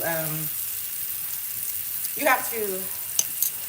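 Frozen breakfast sausages fry in a pan with a steady, close sizzle that runs throughout, and someone talks briefly over it at the start and again near the end.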